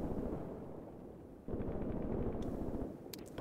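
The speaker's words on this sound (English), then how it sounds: "they're shooting them with mortars" Mortar and artillery fire in Graviteam Tactics, a WWII Mius Front battle game: a dense, rumbling barrage of booms that drops briefly, then surges back louder and continuous, with a few sharper cracks near the end.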